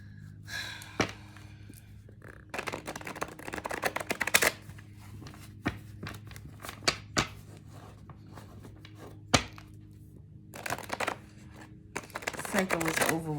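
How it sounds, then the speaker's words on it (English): Cards being shuffled and handled, with soft riffling and sharp taps scattered through, alongside quiet breathing and faint speech. "Let me just shuffle these up real quick."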